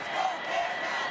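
A stadium crowd at a rugby sevens 9th-place playoff between Kenya and New Zealand roars in a broad, sustained wash of cheering, loud but somewhat distant.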